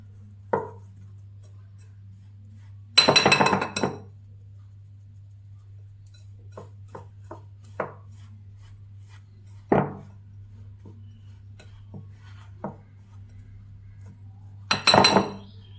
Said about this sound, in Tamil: ஃபஸ்ட்டு இது நல்லா எல்லாத்தையும் கலந்துக்கலாம்.